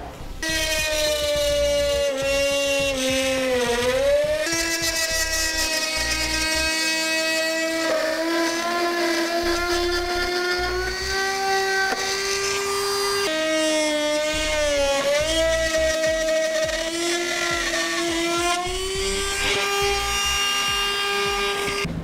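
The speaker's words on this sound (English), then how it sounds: "use our rotary cutout tool to remove these parts of the fascia" A rotary cutout tool trims the plastic front fascia of a 2014 Ford Fiesta, a loud continuous high-pitched motor whine that rises and dips in pitch as the tool bites into the material.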